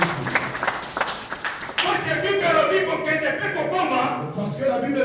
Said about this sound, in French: Nous applaudissons encore.